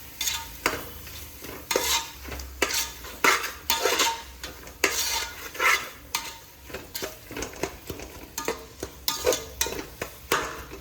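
Spinach and soya pulao masala frying in oil with garam masala powder, a ladle scraping and stirring the pan in repeated rhythmic strokes over a soft sizzle, close and clear with no talking.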